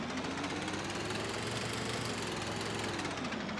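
A Landini tractor engine runs in Farming Simulator 2013, a steady, close, slightly knocking chug that holds an even loudness from start to finish with no pauses.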